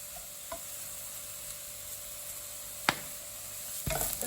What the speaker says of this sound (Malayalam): സവാള നന്നായിട്ട് വഴന്നു വന്നിട്ടുണ്ട്